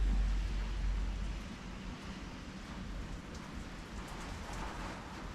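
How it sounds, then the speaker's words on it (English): Heavy rain pours down outside a workshop, a dense, steady hiss of drops drumming on surfaces, with a low rumble at the start and no voices. "it's absolutely tipping it down with rain outside"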